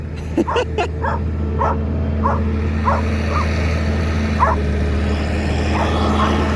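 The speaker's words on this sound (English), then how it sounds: "Can you tell she's a cattle dog?" A cattle dog barks and yips repeatedly at a farm feeding bunk, short sharp calls spaced irregularly over a low steady engine hum.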